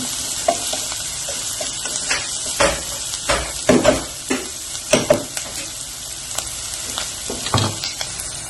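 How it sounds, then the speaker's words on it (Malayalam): Onions wilt in a pan while being stirred for white sauce macaroni, giving a close, steady sizzle punctuated by repeated scraping strokes of a spatula, with no voices. "ഉള്ളി ഒന്ന് ചെറുതായി വാടി വന്നു"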